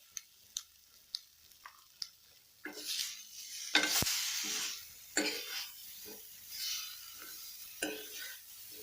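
A mustard okra curry mixture is stirred in a pan with soft, sparse scrapes at first, then denser sizzling and spoon scraping swell up, with a few sharp clacks against the pan.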